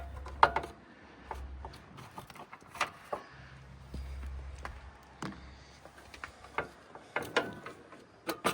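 A ratchet clicks in short, uneven bursts while the battery is removed from an old John Deere garden tractor, close up, with scattered taps and metal clunks in between.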